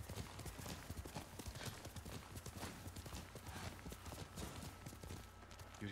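Steady clip-clop of horse hooves trotting at an even rhythm in the video game Ghost of Tsushima, fairly close, with a faint mutter of voices underneath.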